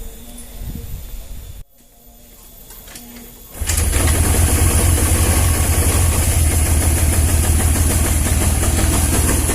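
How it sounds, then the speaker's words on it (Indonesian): A Honda Vario 110 scooter with an electrical fault that stalls it when the horn or turn signal is used. After a few quiet seconds the engine starts and settles into a steady, close, buzzing idle that runs to the end. "Oke, tunggu, kita nyalakan motornya biar lebih mudah."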